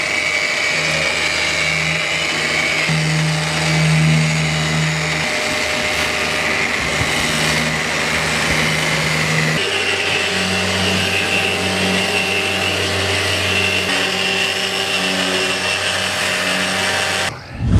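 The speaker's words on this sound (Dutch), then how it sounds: "inmiddels is Mathieu aan het schuren gegaan" Power sander working on a boat hull during below-waterline repair, a steady loud whine that runs almost continuously, shifting pitch partway through and cutting off at the end.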